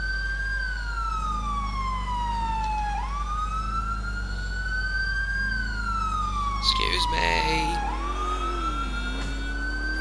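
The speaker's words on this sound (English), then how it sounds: "it reminds me of the police siren off of, the British" A police car siren in the video game GTA 4 wails in long, slow rising and falling sweeps, loud and continuous, while a voice briefly speaks over it.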